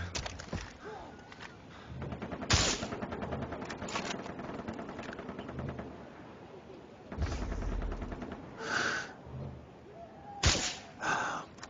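Sporadic gunshots and short automatic bursts in Far Cry 3, a few sharp loud cracks spread among quieter shots, with a player talking in French between them.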